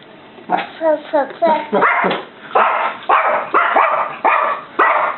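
A child imitates a puppy with a run of about ten short, high yapping barks in quick, uneven succession, close up.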